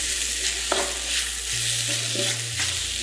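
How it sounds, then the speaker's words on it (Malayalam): Ginger garlic paste, chopped green chillies and curry leaves cook in a pan for a Kerala beef curry, a continuous close sizzle with a few soft stirring scrapes. "ടേബിൾ സ്പൂൺ ഇഞ്ചി വെളുത്തുള്ളി പേസ്റ്റ്, 2 അരിഞ്ഞ പച്ചമുളക്, 12 കറിവേപ്പില എന്നിവ ചേർത്ത് 3 മിനിറ്റിന് ഇളക്കി വേവിക്കുക"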